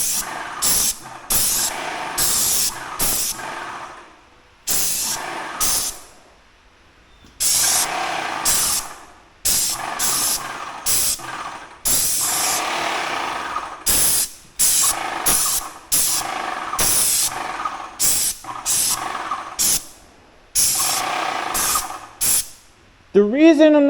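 A Magnum X5 airless paint sprayer fires in repeated loud bursts of hissing spray, each lasting a second or several, separated by short silences, with a voice briefly heard at the end.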